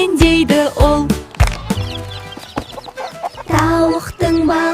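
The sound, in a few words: chicken clucking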